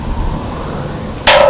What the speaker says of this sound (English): Listen and you hear the protracted ring. That indicates there's absolutely no rust inside of this rail.